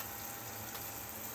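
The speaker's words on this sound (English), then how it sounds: "Just this little camping shower." Water spraying from a small camping shower outdoors at an old stone house, a steady, fairly faint hiss of jetting water with no pauses.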